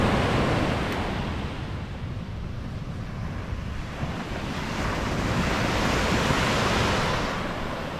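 Ocean surf breaking on a beach near Puerto Vallarta, a continuous broad wash of waves with some wind noise on the microphone, swelling and easing gently with no talking.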